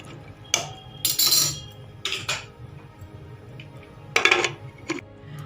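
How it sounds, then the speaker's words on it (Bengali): A pressure cooker lid being fitted in a kitchen, a few short metallic clinks and clatters spaced across several seconds, close and fairly quiet with a low hum underneath. "আমি প্রেসারের ঢাকনাটা দিয়ে দিচ্ছি"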